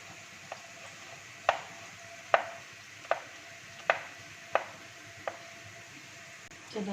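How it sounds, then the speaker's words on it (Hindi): A knife cutting through milk halwa made from curdled milk, seven or so distinct knocks against the tray or plate at roughly regular intervals, close and quiet in a still room. "अब मैं छुरी की मदद से इसे काट लूँगी।"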